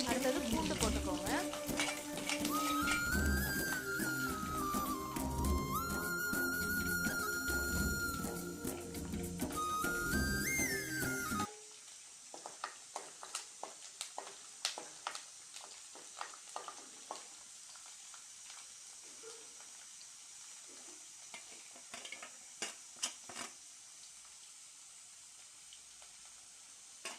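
Cumin seeds, fenugreek and garlic sizzle and fry in a pan for a Tamil shallot and garlic kuzhambu, with scattered stirring scrapes over a steady low hiss, after music fades out.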